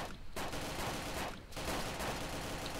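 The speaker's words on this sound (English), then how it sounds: "Tell me when you're firing and we'll fire! Fire!" Gunfire in the DayZ Overpoch mod, a dense, quiet roar of overlapping shots that drops out briefly twice, heard from a distance with no talk.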